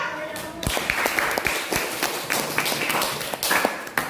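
A classroom of students claps for a presenting group, uneven and somewhat sparse with distinct sharp hand claps and thumps standing out over a steady patter, close by and fairly loud.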